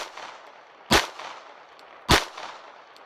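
Two sharp handgun shots fired in a shooting drill, spaced a little over a second apart, loud and close with short echoing tails over a faint background hiss.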